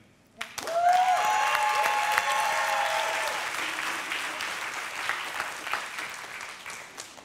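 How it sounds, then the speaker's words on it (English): A church congregation bursts into loud clapping after a brief quiet moment, the applause swelling quickly, holding strong, then gradually tapering while a faint tonal sound rings out at the start. "can y'all clap louder for Jim?"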